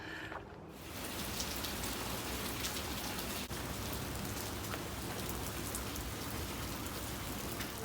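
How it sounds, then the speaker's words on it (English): Rain falling hard on a windy spring day, a dense steady hiss of drops on surfaces that swells in after a quieter first second and keeps going. "It started raining kind of hard again, really windy"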